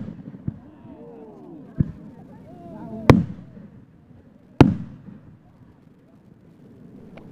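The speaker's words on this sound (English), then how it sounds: "I wonder how those big booms are gonna sound on the audio." Two loud, sharp booms of fireworks a second and a half apart, with a couple of smaller pops earlier and faint voices murmuring underneath.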